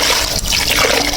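About two litres of water poured into a pot of black chickpeas, a steady, close splashing gush that runs for a moment, loud and alone.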